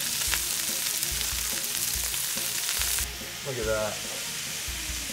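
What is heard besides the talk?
kebabs searing in olive oil on a hot skillet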